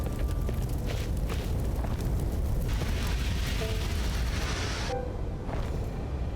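Fire burning after a spark in a small plane, a steady broadband roar and crackle that fills the whole stretch at a fairly loud, constant level, with a few brief pops along the way.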